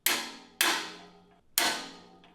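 A hammer strikes metal go-kart steering parts three times at an uneven pace, each clang ringing out close and loud before fading.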